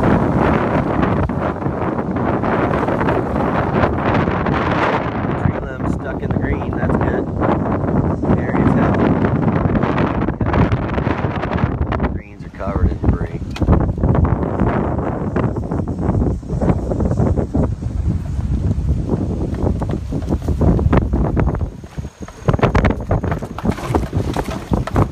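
Strong wind from Hurricane Matthew buffets the microphone continuously, a loud, gusty rumble and roar with brief dips, like being out on open water.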